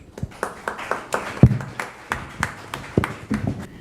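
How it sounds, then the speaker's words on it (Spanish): Audience clapping to welcome a speaker at a panel discussion on territorial development. The claps are sparse, uneven and fairly close, coming from a modest crowd in a room and trailing off without a big swell. "Lo recibimos con un fuerte aplauso"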